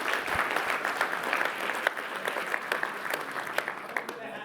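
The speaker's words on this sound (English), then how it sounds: "Please, ladies and gentlemen, give this person a round of applause." An audience at the Google Premier Partners Awards 2019 applauds a volunteer coming on stage, a sustained mid-distance clapping with scattered sharp claps and a faint voice or two beneath.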